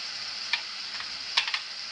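Spice mixture of asafoetida, turmeric and Malvani masala frying in oil while being stirred, a soft continuous sizzle with a few light ticks and scrapes from the stirring, faint and close.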